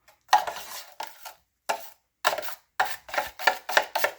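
EZ Sand 45 minute joint compound is being mixed in a series of scraping, slapping strokes, about nine bursts in an irregular back-and-forth rhythm with short silences between, close and fairly loud, with no talking.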